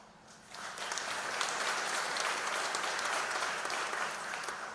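Audience applause at a ribbon cutting ceremony for the Ashland public safety building, with steady clapping from a moderate crowd that swells in after a quiet second and carries on evenly, somewhat distant.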